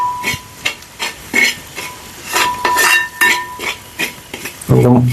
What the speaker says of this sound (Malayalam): സവോള വരുന്നതും കൂടെ കൂട്ടി ഇളക്കി യോജിപ്പിക്കും